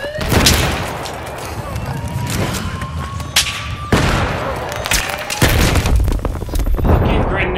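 A grenade blast in the Battlefield 3 Metro map on PS3 booms among rapid gunfire and further explosions, loud and close, with sharp repeated cracks and heavy low rumbles throughout.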